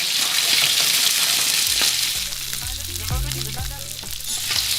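Kanpachi fillet searing in a hot pan, a steady loud sizzle and crackle of frying oil, close up, with occasional clinks and low thumps from the pan and utensils.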